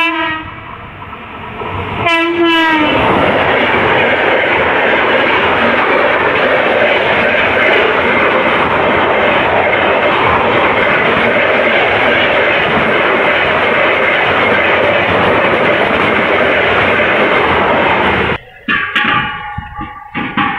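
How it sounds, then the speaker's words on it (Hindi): Train rolling past a railway level crossing near houses in Muzaffarpur, Bihar, opening with a horn blast, then a loud, sustained rumble and clatter of wagons for about sixteen seconds before fading. "ये आ गए ट्रेन"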